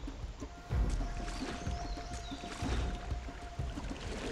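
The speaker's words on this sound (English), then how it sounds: "Are we really canoeing into a waterfall?" Canoe paddling through water in the Assassin's Creed Liberation video game, heading toward a cave and waterfall, with repeated low splashing strokes over a steady wash of flowing water.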